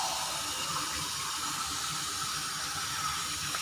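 Steady rushing water pours continuously into a cooking pot holding milkfish head, a close, even gush with no pauses and no voices.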